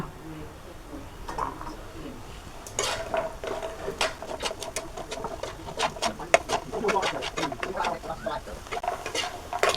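Soybean chunks lightly frying in a pan, a soft sizzle under repeated scraping and clinking of a spatula against the pan, irregular stirring strokes close by.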